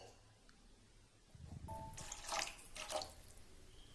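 Half a cup of water poured into a pot of tomato pepper rasam, a short, soft splashing pour of about two seconds rising and fading, faint and close.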